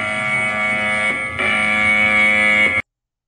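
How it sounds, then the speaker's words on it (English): An Emergency Alert System attention tone blares, a loud steady dual-pitch electronic buzz with a brief dip and restart in the middle before cutting off abruptly into silence. "The emergency alarm system sounds good."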